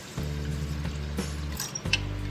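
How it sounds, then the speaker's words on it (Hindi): Water pours steadily into a bowl of barley porridge set to soak, a close, soft liquid fill with a brief break partway through and gentle splashes. "अब इसमें पानी डाल के भिगो के रख देंगे।"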